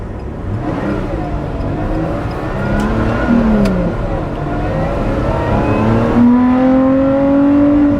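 A Lotus Exige Sport 390 Final Edition sports car engine revs hard and climbs in pitch, a loud, close, rising roar that swells toward the end.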